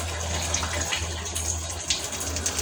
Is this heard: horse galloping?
no